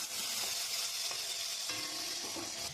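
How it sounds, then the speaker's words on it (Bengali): Potatoes frying in hot mustard oil with black cumin for a mustard fish curry, a steady loud sizzle throughout with small crackles and stir clatters, no voices. "একটু আলুগুলো লাল লাল করে ভেজে নেবো"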